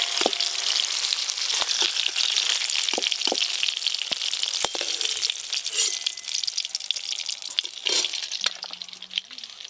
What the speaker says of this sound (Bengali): এদিকে আমার বেগুন ভাজাও হয়ে গেল